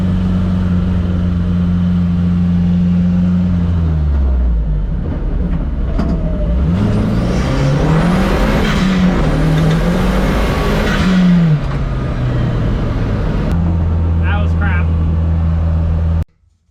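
A first-generation MK1 1.8t car engine running poorly on a road test: a loud, close, continuous engine drone whose pitch dips and climbs as the revs rise and fall, with rushing road and wind noise over it.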